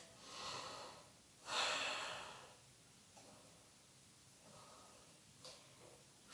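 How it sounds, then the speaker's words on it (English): Slow, audible breaths taken while holding a yoga balancing pose, with a strong inhale-exhale surge near the start and softer, quieter breaths after, close and alone. "Don't restrict the breath, or don't hold the breath rather."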